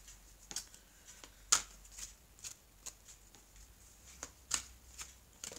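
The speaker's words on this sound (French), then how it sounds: "Alors je vais prendre les cartes de l'oracle coup de cœur." Oracle cards being shuffled by hand during a tarot-style reading, heard as soft, close riffles and scattered crisp card snaps at an uneven pace over a quiet room.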